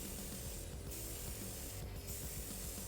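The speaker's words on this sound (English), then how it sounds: "by working from a massive distance, you're working with the most diffuse possible spray that you can." Airbrush spraying paint thinned with flow improver onto a diorama from a far distance, a steady soft hiss running continuously with slight surges, no talking.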